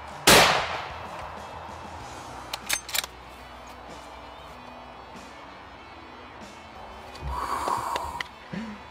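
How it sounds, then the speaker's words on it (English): A single sharp, loud rifle shot cracks at the start during a buffalo hunt in South Africa, followed by quieter outdoor noise, a few faint knocks and a breathy sound near the end. "Shoot him again in the shoulder."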